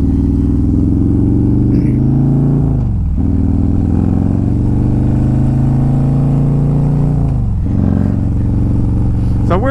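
A Harley Road Glide with a 130 cubic inch engine pulls hard while merging onto the interstate, its loud, steady engine roar rising through the gears with brief dips at each shift.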